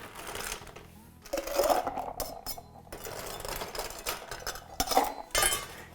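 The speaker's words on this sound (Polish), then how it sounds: "Następnie dodaję lodu." Clinking, rattling bursts of ice cubes dropping into a metal cocktail shaker for a Ramos Gin Fizz, several quick clattering hits close by.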